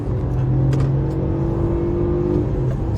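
A BMW 318i engine pulls steadily under acceleration from about 60, a continuous rising drone with a strong low hum, heard from inside or close by.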